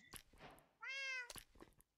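A cat in Minecraft lets out one clear, close meow, set between faint clicks and soft background noises.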